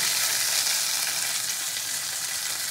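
Prawns frying in oil in a wok give a dense, continuous bright sizzle, loud and close, lasting throughout without any talk.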